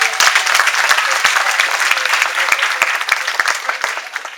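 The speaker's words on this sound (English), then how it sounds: "Give yourselves a round of applause." Crowd at a Neapolitan nativity scene presentation applauds loudly and steadily, a thick continuous patter of many hands with a few distinct sharp claps standing out, no talking over it.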